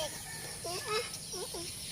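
A chicken clucks in short bursts, a few close, moderately loud clucks over faint background ambience.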